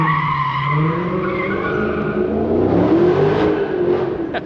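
A classic car at an auction event accelerates hard down a straightaway, engine revving and climbing in pitch with tire squeal, loud and close with a sweeping rising tone.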